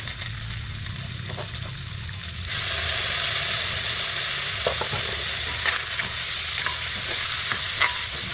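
Red and green peppers stir-frying in a hot pan, a steady crackling sizzle that grows louder partway through, with occasional scraping stirs, close and without voices.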